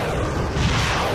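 An atomic bomb explosion rendered as a dense, continuous roar of deep rumbling blast energy filling the whole short stretch, loud and close, with no voices.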